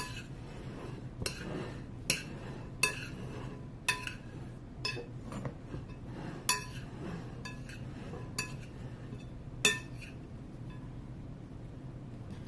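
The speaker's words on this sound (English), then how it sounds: "I'm going to take our spoon. Let's go ahead and give this another stir." A spoon stirs herbed potato salad in a bowl, producing a dozen or so sharp clinks against the dish at irregular intervals over a quiet background.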